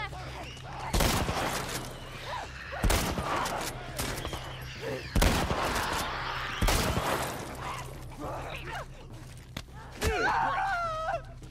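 Gunfire rings out in The Last of Us Part 1, several loud separate shots spaced a couple of seconds apart over low ambient rumble, with grunts and a brief voice near the end.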